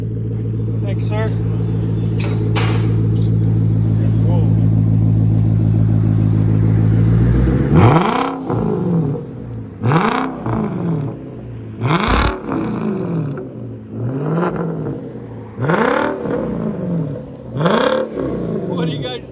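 A 2005 Infiniti M45 with a 4.5L V8 and straight-pipe exhaust idles loudly, then is revved in about six sharp bursts, each rising and falling back. The sound is close and heavy, with no one talking.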